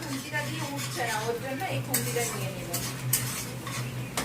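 A metal spatula scrapes and clatters against a pan while stirring restaurant-style chow mein at home, repeated close scraping strokes over a faint sizzle, with a voice talking alongside.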